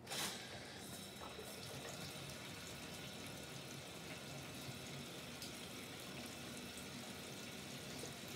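Water rushes steadily from a hand-held filler hose into a portable washing machine while towels are washed, making a constant, close, broadband splashing flow with no pauses or voices.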